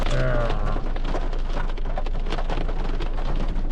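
Rain falls steadily at close range, a loud dense patter that goes on without a break. A short tonal sound is heard near the start.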